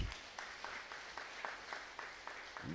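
Audience applause at a spiritual speech gathering, a light, fairly distant patter of clapping with small periodic bursts, carrying on steadily with no voices over it.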